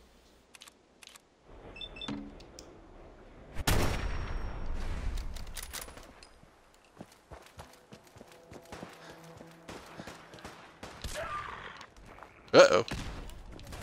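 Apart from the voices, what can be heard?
gunfire in the video game Fallout 4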